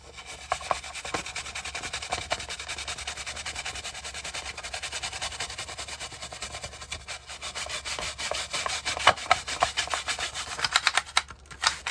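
Steady brisk scrubbing on a dirty Lionel 3484 operating box car part, rubbing strokes running continuously at close range with a few sharper scrapes near the end.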